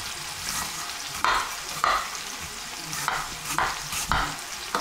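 Large apple cubes cooking in a frying pan, a gentle steady sizzle with repeated spatula scrapes and stirs every second or so, close and alone.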